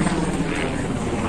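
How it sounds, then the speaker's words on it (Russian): A helicopter passes overhead in Turkey, a continuous loud rotor and engine drone that holds steady throughout with no talk. "Здесь летит вертолет."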